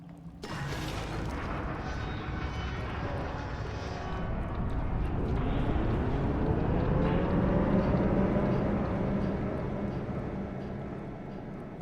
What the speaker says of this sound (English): Kind of sounds like an engine coming to life.